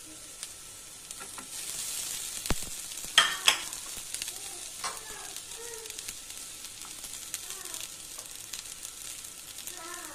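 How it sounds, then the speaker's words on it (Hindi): Fried shrimp stirred into potatoes in a frying pan, with a steady low sizzle under repeated scraping and clattering stirs, a couple of sharper knocks near the start. "और अब फिर इसे अच्छे से मिक्स कर लूंगी।"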